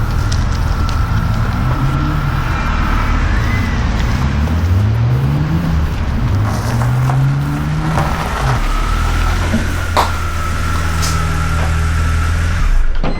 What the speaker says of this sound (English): I can leave the car running on a hill and it doesn't go anywhere